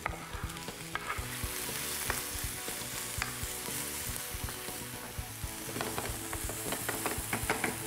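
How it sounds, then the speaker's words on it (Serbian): Chopped ingredients with olives sizzle in a heated frying pan, a steady crackling hiss with scattered pops and the occasional clink of stirring, close and unbroken, with no voices. "Kad smo sve to fino pripremili, ubacujemo u tiganj zagrejan."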